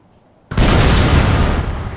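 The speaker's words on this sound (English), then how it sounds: "So now you're going to have basically an artillery duel between the two sides" Artillery fire in a Shogun 2: Total War battle between British and United States forces: after a half-second lull, a loud broadband boom erupts and rolls on as a sustained, heavy rumble.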